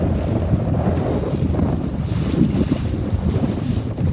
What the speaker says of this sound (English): There's a lot of wind right now.